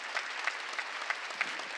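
A church congregation at a Wednesday worship service claps in a steady wash, with sharper accents landing about every third of a second; the applause is fairly loud and continuous, with no talk over it.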